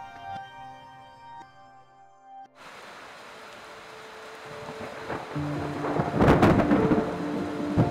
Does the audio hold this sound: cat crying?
no